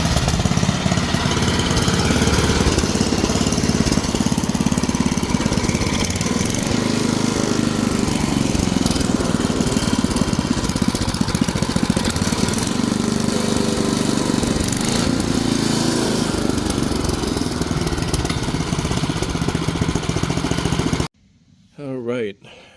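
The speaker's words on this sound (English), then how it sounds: "That's an old Tecumseh engine." An old Tecumseh small engine on a Murray Explorer go-kart runs loudly and roughly at a steady idle close by, with a person talking over it, before cutting off abruptly near the end.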